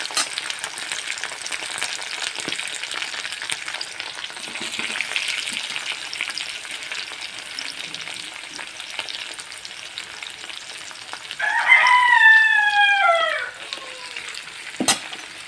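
Kada prawns (mud shrimp) frying in a pan, a steady low crackling sizzle with stirring scrapes, then a louder burst of hissing and popping as more goes in, ending with a sharp knock.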